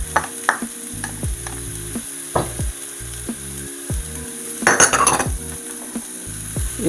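Finely chopped cabbage, capsicum and a little carrot hissing in a hot pan while a spoon scrapes and clinks against the metal in irregular stirring strokes, the sizzle steady and close.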